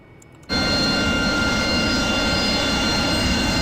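An AV-8B Harrier jet lands in a flight simulator game, its engine roar kicking in abruptly and then holding as a loud, steady, close drone.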